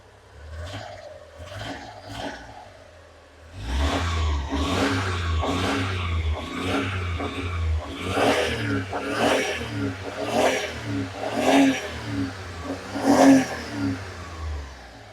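A Honda Acty engine with freshly cleaned fuel injectors starts up and runs, revving in a series of rhythmic throttle blips that rise and fall, loud and close, with no talking.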